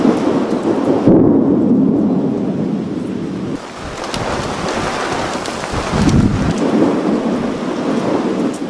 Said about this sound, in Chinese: 刚才还是大晴天，一转眼就又是一场大雨。